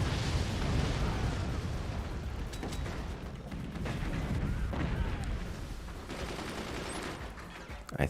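Artillery weapons in the strategy game Forts firing continuously, a dense, loud barrage of overlapping booms and blasts with no pauses and no voices.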